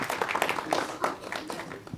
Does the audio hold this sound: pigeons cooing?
no